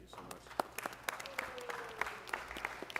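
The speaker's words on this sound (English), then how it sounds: "Another round of applause for our members of the council." Light, scattered applause at a city council meeting, with distinct individual claps at a modest level under a faint murmur in the room.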